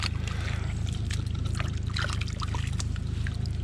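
Water trickles and pours steadily through a damaged culvert pipe, a continuous splashing gurgle close by, with a low mechanical hum from an idling mini excavator underneath.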